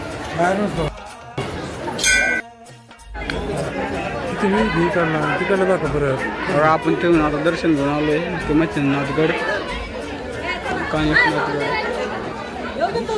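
Pilgrims crowding a temple fill the air with dense, continuous chatter, many voices overlapping nearby, with someone speaking over the crowd and a few faint clinks.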